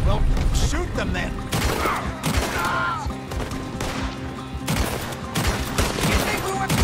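Gunfire during a chase in Red Dead Redemption 2, bursts of shots and rapid volleys mixed with game sound effects, loud and close, with voices talking over the action.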